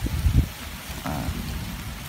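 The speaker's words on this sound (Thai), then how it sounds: "เพราะว่าฝนเริ่มตกลงหนักมาอีกแล้วครับเนี่ย" Heavy rain pours in a dense, steady hiss, with low rumbling thumps near the start that fit distant thunder, and no one speaks.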